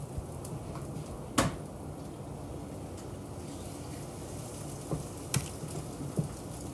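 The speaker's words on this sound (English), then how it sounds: "So frying it with the onions and the peppers." An egg frying in a pan with onions and peppers for a veggie omelet gives a soft, steady sizzle, with a few brief pops and crackles rising out of the quiet hiss.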